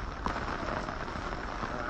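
Steady rain falling in a downpour, a dense even hiss that stays constant and fairly loud with no pauses.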